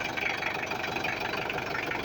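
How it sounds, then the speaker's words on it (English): A vehicle engine idles with a heavy, tractor-like rumble, a steady close drone that holds evenly throughout with no talking over it. "So that's Mr. Blue. Sounds like a tractor, but very powerful engine."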